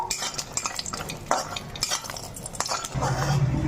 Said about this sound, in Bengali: বড়িটা আমি হালকা করে ভেজে নেবো